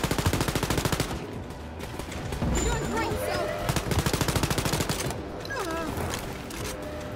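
Automatic gunfire in Wolfenstein: Youngblood, New Berlin level, comes in rapid, loud bursts near the start and again midway, separated by stretches of game effects, creaks and mechanical noise, with a voice talking briefly.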